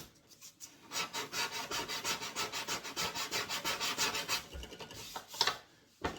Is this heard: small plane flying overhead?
no